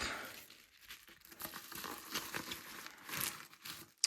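An envelope holding trading cards is opened with quiet paper crinkling and tearing in short uneven bursts, ending in a sharper rip.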